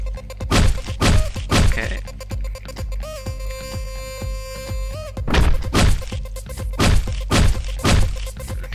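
Repeated heavy thunks and cracking whacks of a baseball bat striking enemies in the top-down action game Hotline Miami, a rapid burst of impacts, then a pause under a held musical tone, then another run of blows over loud game music; one short spoken word.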